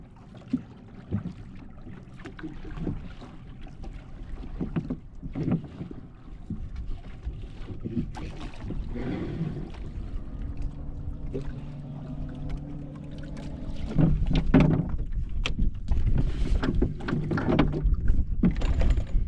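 Oars working a small dinghy beside a sailboat after its outboard's pull cord broke, giving steady splashing strokes and water movement close by, with wind buffeting the microphone and no talking.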